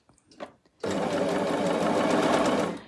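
A sewing machine fitted with a tape binder stitches fabric: a few soft handling taps, then a steady, loud, continuous mechanical whir that runs evenly for about two seconds before easing off.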